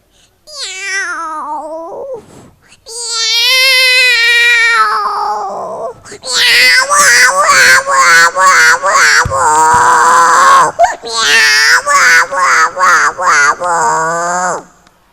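On stage at a mimicry show in Dubai, a voice imitates a cat in labour, with drawn-out strained meows and wails that turn into rapid, rhythmic yowling cries, loud and close throughout.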